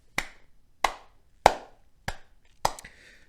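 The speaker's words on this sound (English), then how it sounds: "that round of applause is for all of the players that showed up for the Raptors today" Five slow, evenly spaced hand claps sound close and crisp, each a sharp isolated smack with a brief ring, like a single person clapping a short round of applause for a basketball team with no other sound between.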